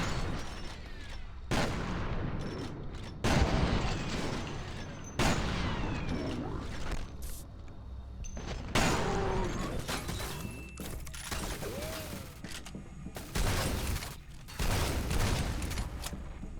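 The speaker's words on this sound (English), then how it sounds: "Sometimes I feel like I should feel bad for using the shotgun so much" Shotgun blasts and other gunfire in the video game F.E.A.R. Perseus Mandate, repeated loud booming shots spaced every second or two across a busy firefight, with explosions and battle noise between them.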